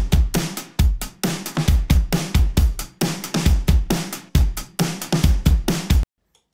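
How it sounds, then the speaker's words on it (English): An acoustic drum kit plays a verse beat, with punchy kick and snare hits in a tight, steady groove and bright cymbals washing over the top, loud and close, before the beat stops abruptly into silence. "So we have this verse beat for a new song that sounds like this."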